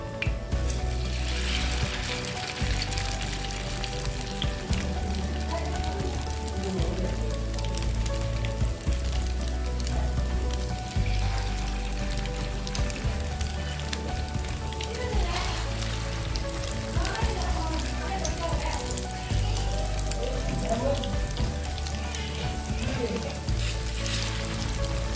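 Spoonfuls of chicken noodle kabab mixture sizzle and fry in hot oil, a steady loud crackling hiss that continues throughout with no talking.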